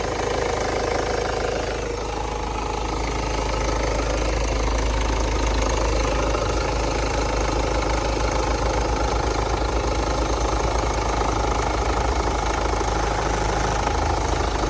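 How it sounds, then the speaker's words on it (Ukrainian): A 2015 Ford Focus 1.5-litre diesel engine idles steadily with a low, even knocking rumble, close and continuous throughout, with no voices. "Двигун працює рівномірно, ніяких лишніх звуків ніде немає."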